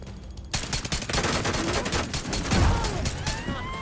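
Rapid gunfire from a third-person shooter, The Division 2, during a control point fight: dense bursts of automatic fire begin after a short quiet lead-in and continue steadily and loudly to the end.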